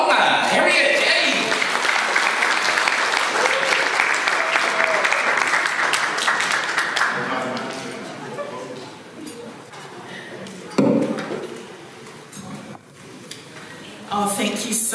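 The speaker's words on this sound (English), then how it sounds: "Please give a warm round of applause" Audience at a Pacific community anniversary celebration in Auckland breaks into loud, sustained applause with cheers, fading after about seven seconds into scattered claps and murmuring crowd voices.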